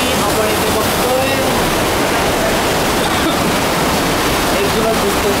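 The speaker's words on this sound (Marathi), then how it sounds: "एक जुना दिसतो तो धबधबा" Steady, loud roar of the waterfall at Shivthar Ghal (Sundarmath), broadband rushing water filling the whole stretch without a break.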